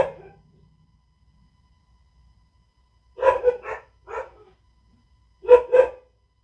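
Dogs bark in two short clusters, each made of a few sharp barks and heard at moderate distance, with near silence before and between the bursts.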